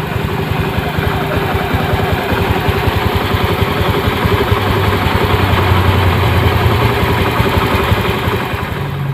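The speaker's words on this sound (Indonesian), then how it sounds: "Ini motornya setelah di oplos injektor, sekarang motornya sudah langsam ya." A Honda Beat ESP motorcycle engine idles steadily after injector cleaning, a loud, close, continuous low rumble with even pulsing throughout.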